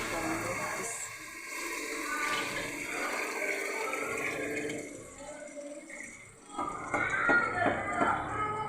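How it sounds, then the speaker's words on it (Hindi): Water splashes and pours into a cooking pot of black chickpea pulao in a steady, gurgling stream, rising in intensity toward the end, with some light background noise. "अब मैं इसमें पानी ऐड करूँगी।"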